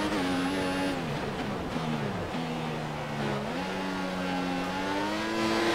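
A Formula 1 car in the F1 2014 racing game at the Hungarian Grand Prix, its high-pitched engine whining and rising through gear changes, dropping sharply on downshifts, loud and constant with faint tire noise.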